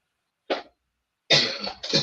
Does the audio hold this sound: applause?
no